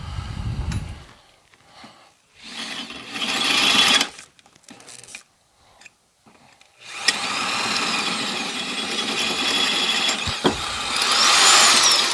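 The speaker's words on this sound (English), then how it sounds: "I'm not gonna bore you guys with doing all this other hole drilling" A power drill bores holes in metal parts for a homemade forge, whining in loud sustained bursts separated by brief pauses, the final run long and grinding.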